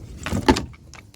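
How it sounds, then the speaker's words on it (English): A chicken coop door on a farm, pulled by a small chain, shuts with a short mechanical slide and a sharp knock in the middle, close and fairly loud, followed by faint rattling. "Door shuts down."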